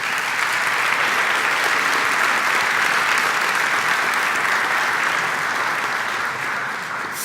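Sustained applause from a church service audience fills the whole stretch at a steady, loud level, dense and even, with no voices rising above it.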